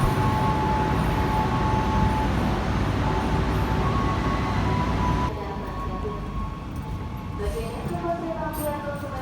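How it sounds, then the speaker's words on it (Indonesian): KA Argo Semeru train pulling into Solo Balapan station on track 4, a loud sustained rumble of wheels and engine with a tonal horn-like note, easing off partway through as the train slows, with station noise around it. "KA Argo Semeru masuk stasiun Solo Balapan di jalur 4"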